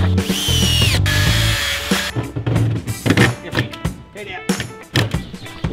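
Power drill driving screws into an old fridge being converted into a top bar bee hive, heard in short bursts mixed with clattering and knocking, with a person talking at times over the work.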